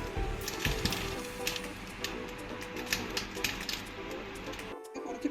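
Mustard seeds spluttering in hot coconut oil in a pan while cooking okra and egg thoran, a dense close crackle of small pops and sizzle running throughout with no talk.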